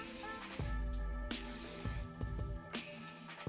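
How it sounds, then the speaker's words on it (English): Several bursts of hissing aerosol hair spray, close and loud, each lasting under a second with short pauses between them. "I'm going to use the blow dry spray because it just speeds up the hair drying."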